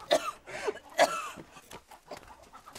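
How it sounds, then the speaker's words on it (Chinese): A person coughs several times in quick, rough bursts, close and fairly quiet, in a domestic setting with chickens about. "你看你咳嗽的"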